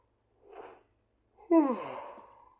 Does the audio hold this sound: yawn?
yes